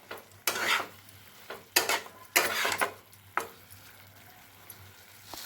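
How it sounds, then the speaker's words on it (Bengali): A spice paste with Kashmiri chili powder is sautéed for a thin hilsa fish curry with potato and eggplant. A spatula scrapes and stirs in a pan in several distinct close bursts over a faint, steady sizzle. "এখন আমি মশলাটাকে কষিয়ে নেব।"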